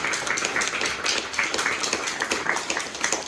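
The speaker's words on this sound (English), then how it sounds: "I think we should give Paul a round of applause" An audience applauds Paul's film during a London Q&A event, a dense, fairly loud burst of many hands clapping close by, sustained throughout.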